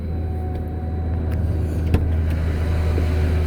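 A 2008 Ford F550 bucket truck engine idles steadily at a little over 1200 RPM with the power take-off engaged, a loud, even, low rumble close by with one brief click midway.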